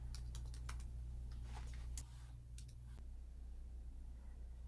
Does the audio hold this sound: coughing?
no